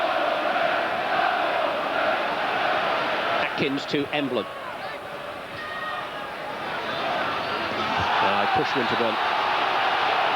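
A football stadium crowd of Wolves fans at an FA Cup match, a steady broad roar that swells and ebbs in the background while a commentator talks over it.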